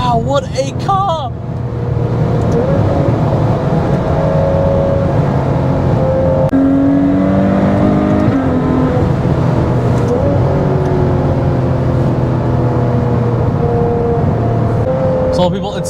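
A Ferrari 812 Superfast at very high speed on the Autobahn, its engine a loud, steady drone with shifting tones, heard from inside the car alongside a man's excited speech.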